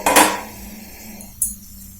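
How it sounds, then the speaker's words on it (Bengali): A metal lid lifted off a pot of broccoli masala curry on the stove gives a short clattering clink at the start, then a quiet pause, then a second brief metallic knock, all close by. "আমি ঢাকাটা খুলে নিচ্ছি।"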